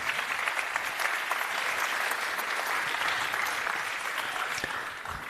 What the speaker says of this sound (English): Thank you for the advance applause for our distinguished group of CEOs